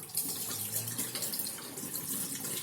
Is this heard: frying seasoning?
no